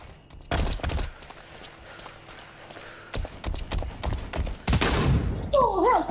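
Breech loaded pistol fired in a video game, with a few sharp, loud bursts of shots spaced several seconds apart over a low background, and a brief voice-like sound near the end.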